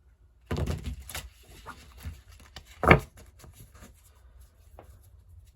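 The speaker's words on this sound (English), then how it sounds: "A little bit of shuffling for you." Tarot cards being shuffled by hand, a run of close, soft riffling rustles and light taps with a sharper snap partway through, in a quiet room.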